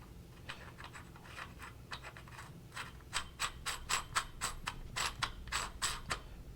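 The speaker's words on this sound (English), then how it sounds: "we're going to take our new barrel nut right here that came inside of our rail system, and we're going to screw it onto here." A metal barrel nut being screwed onto a rifle upper gives a run of rhythmic scraping, ratchet-like clicks, sparse at first and then steady and louder, close by in a quiet room with no talking.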